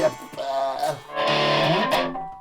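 Distorted electric guitar, a Westone Clipper VI, playing a short riff, gritty sustained notes with a brief pause before a fuller, heavier chord.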